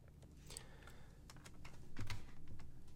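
Computer keyboard and mouse clicks come in quick, light, close taps while bones are selected in 3ds Max, over a faint low background hum.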